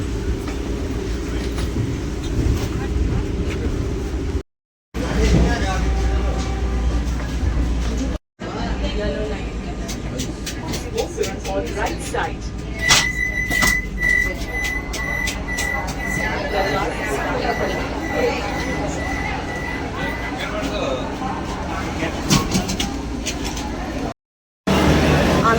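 Steady rolling rumble and clatter from inside a moving Vande Bharat express train, with people chatting over the carriage noise and a few brief drops in sound.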